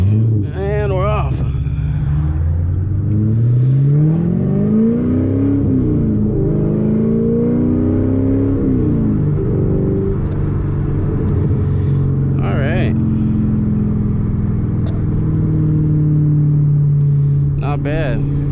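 A tuned 500 hp C7 Corvette Stingray engine rumbles and revs as the car pulls away and accelerates, the pitch climbing and falling through gear changes, loud and close from inside the cabin, with a voice speaking over it.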